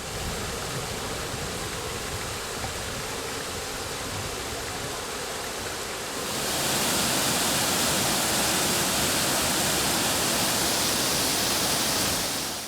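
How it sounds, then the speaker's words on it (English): Water rushing steadily at a waterfall on a Caribbean island, a dense broadband roar that grows louder and brighter halfway through, continuous with no voices. "I was surprised to see waterfalls."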